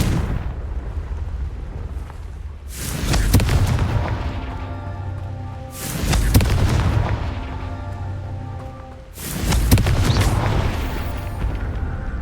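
Confringo fire spell blasts in the Hogwarts Legacy video game: three loud, booming explosions at even intervals, each a sharp burst with a rumbling tail, over a low ambient game background.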